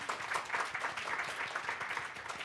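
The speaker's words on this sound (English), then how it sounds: "give a round of applause" Steady applause from an audience at an art critics' forum, a dense wash of clapping that holds evenly throughout without pause.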